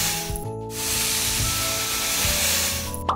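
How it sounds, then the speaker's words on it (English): Sand pouring into a water tank for a Lego wave machine build, a steady grainy hiss lasting a few seconds over background music. "Add sand to the tank."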